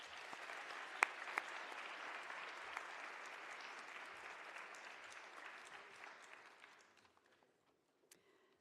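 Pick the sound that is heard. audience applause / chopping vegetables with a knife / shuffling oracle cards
audience applause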